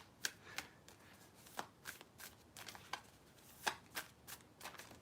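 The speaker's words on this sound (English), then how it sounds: "I think this deck is shuffled enough now." A deck of playing cards is shuffled at a table: a quick run of sharp riffling snaps and soft slaps, close and fairly quiet, recurring irregularly about every half second.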